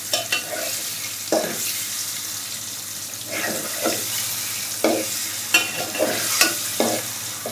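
Sweet pumpkin fries in a pan, a steady sizzle broken by repeated scraping stirs of a spatula at irregular intervals, close and fairly loud with no talking.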